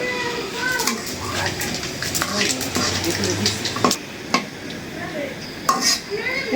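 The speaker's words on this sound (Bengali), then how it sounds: "তেলের ভিতরে দিয়ে দিছি শুকনো মরিচ ছোলা বানার জন্য আর দিয়ে দিলাম এই কাঁচা জিরে" Dried chillies and raw cumin seeds crackle and sizzle in hot oil, with scattered sharp pops and utensil clinks over a steady frying hiss, while a person talks faintly nearby and birds call in the background.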